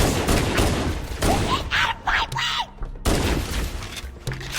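DMR rifle shots in Halo Anniversary ring out as sharp repeated cracks in quick bursts, loud and close, mixed with a man's speech.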